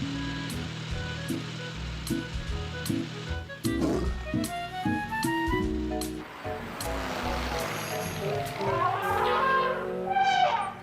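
A cartoon lion roars in a children's animated show, a loud rumbling roar partway through, set among music, a whooshing rush and a character's voice.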